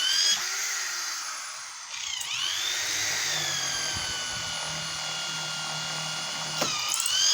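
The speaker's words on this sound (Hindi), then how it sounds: "देख सकते हो छत लगाने के लिए सुराख किया जा रहा है साथियों।" A power drill bores holes for fitting a roof, close and loud, its steady high whine running almost the whole time and changing pitch as the bit bites or the trigger shifts, with no talking.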